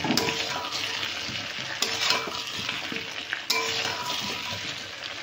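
Ginger garlic paste frying in a pan of oil for a fish curry with taro, a steady loud sizzle broken by a few sharper bursts as it is stirred, close by with no voices.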